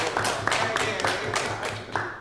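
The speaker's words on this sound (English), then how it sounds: "Everybody give them a round of applause." Applause from a panel-discussion audience, scattered hand claps landing as sharp bursts over a steady room hum, with a voice mixed in.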